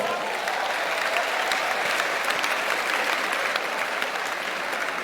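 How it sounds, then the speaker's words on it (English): Fresh university students at an orientation programme applaud for themselves, a steady, dense wash of hand clapping from a large crowd that stays even in level throughout, moderately loud and slightly distant. "You will clap for yourself."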